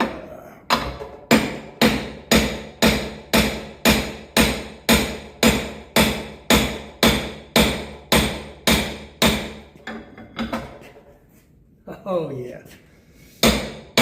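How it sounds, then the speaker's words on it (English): A welded spindle bushing on a Ford 671 tractor front spindle being driven out with a hammer: about seventeen heavy, evenly spaced metallic blows, loud and close, then a pause and some handling noise while someone briefly speaks. "Let me see if I can drive it out."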